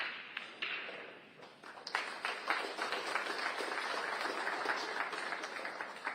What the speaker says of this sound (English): Receiving a well-deserved applause by the crowd there, acknowledging how good the 3 shots were